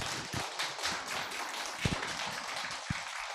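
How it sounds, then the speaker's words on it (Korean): Faint, steady applause from a lecture audience at a Korean humanities forum, a soft wash of clapping with a few sharper taps standing out. "다시 한번 큰 박수 부탁드립니다."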